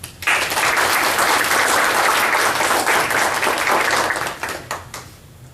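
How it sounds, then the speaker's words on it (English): Loud, dense applause from a crowd, steady for several seconds before thinning out into a few scattered claps at the end. "Please give the George Wythe Society a round of applause."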